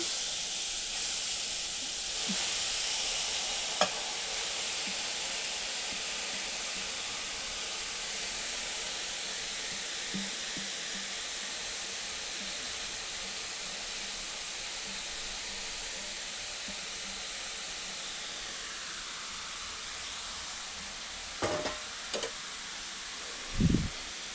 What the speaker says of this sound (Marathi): तूप गरम झालं की केस टाकून घ्यायचा